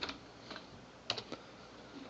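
A few scattered keystrokes on a computer keyboard while filling in search boxes in patient registration software, sparse taps with short pauses between them, faint and close.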